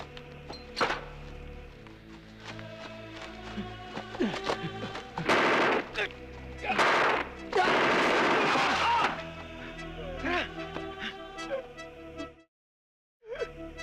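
Bursts of gunfire crackle through a Filipino action film scene, rapid machine-gun volleys and single shots mixed with thuds and impacts, loud and close, with tense dialogue around them before a sudden drop to silence.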